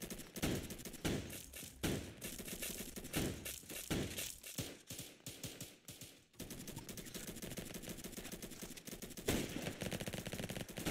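Video game gunfire, a dense, continuous stream of loud rapid shots and overlapping bursts with brief gaps and thuds, close and sustained.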